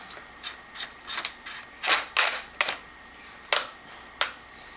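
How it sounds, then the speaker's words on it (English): A sling adapter on a Mossberg 930 SPX shotgun magazine tube is screwed on, producing a series of sharp notching clicks at uneven intervals, close and distinct, with no talking over them. "You're hearing that notching sound from my magazine tube gear sling adapter."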